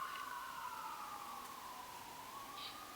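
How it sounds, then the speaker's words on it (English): Ambulance siren wailing through a neighborhood street, a faint distant tone slowly sweeping down and back up, steady and continuous with no voices. "Do all neighborhoods have regular ambulances going through?"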